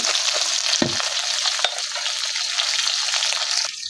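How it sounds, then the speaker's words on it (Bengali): Bata fish frying in a wok with a strong, constant sizzle, broken by a couple of sharp clanks from a spatula stirring. "আজকে কড়াই ভরে বাটা মাছ ভাজি করতেছি আমি"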